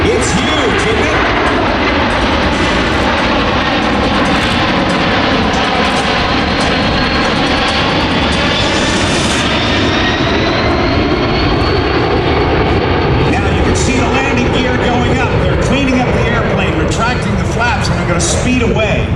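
Boeing C-17 Globemaster III military transport roaring past at an air show on its four big turbofan jet engines, loud and close with a deep sustained rumble and rising whine, while an announcer talks over it.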